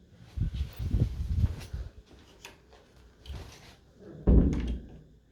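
Bedroom door in a rented flat that won't stay shut, thudding and knocking in a few dull bangs and rattles, fairly close, with no talk.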